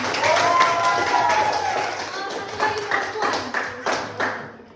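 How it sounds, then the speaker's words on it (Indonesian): Classroom clapping during a microteaching lesson, with voices at first and then a run of separate claps that grows into brief bursts toward the end before quickly fading out. "Bagus, tepuk tangan untuk si Dani."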